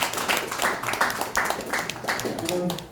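Applause for a keynote presenter at a farming seminar on microbe use in agriculture, a short burst of rhythmic clapping in pulses with voices mixed in, ending as a voice speaks.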